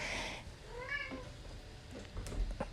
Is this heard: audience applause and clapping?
no